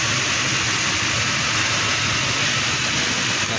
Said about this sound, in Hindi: साउंड चेक कर सकते हैं आप इंजन का।